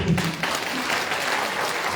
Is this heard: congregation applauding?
yes